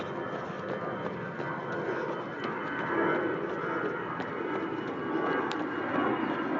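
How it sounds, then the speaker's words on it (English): An airplane takes off and climbs low overhead, a steady broadband roar that swells slightly and lingers at a moderate distance, with no voices over it. "As yet another plane takes off."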